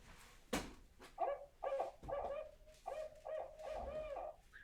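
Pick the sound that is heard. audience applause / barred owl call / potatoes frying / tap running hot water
barred owl call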